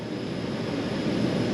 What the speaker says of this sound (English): So apologies for the noise from the heater in the background.